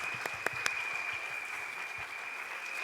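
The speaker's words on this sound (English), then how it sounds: "Let's give a round of applause for our little ones." Parents in a school annual day audience applaud their young children's stage performance, a steady wash of clapping with a few sharper individual claps standing out near the start, moderately distant and continuous throughout.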